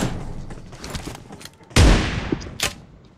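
Shotgun fire in the mobile battle-royale game BGMI: a sharp, loud boom at the clip's middle with a decaying tail and a second shot soon after, over busy game ambience and scattered crackling gunfire.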